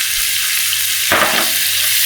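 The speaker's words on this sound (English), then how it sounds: "add cumin seeds and let them crackle" Hot oil sizzles and crackles steadily, with a sharper burst of popping about halfway through as cumin seeds hit the pan.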